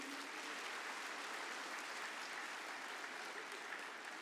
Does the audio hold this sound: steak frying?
no